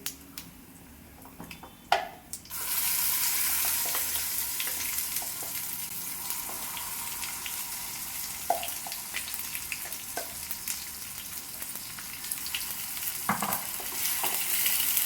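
Garlic and dried red chillies frying in hot oil for an ivy gourd chutney, a loud continuous sizzle that surges in after a quiet start, with occasional stirring clinks and pops, close and without voices.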